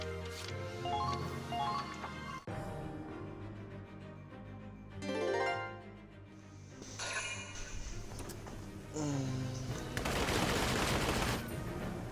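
Rapid bursts of video game gunfire from shooting behind cover, loud and sustained in volleys, with interruptions, mixed with game music and effects.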